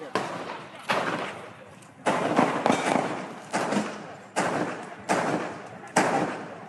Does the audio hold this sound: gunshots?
yes